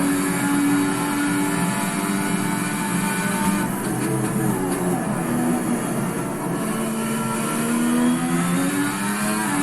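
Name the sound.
Ferrari SF70H F1 car engine in video game Assetto Corsa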